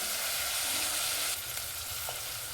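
Onion and peas sauté in hot oil in a pan for a tomato bath. A loud, steady, close sizzle continues throughout, with faint stirring scrapes and no voices.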